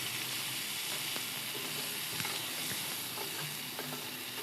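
Ginger garlic paste sautéing in a pan for pepper chicken, a faint, continuous hissing sizzle with occasional light clicks of stirring, no voices.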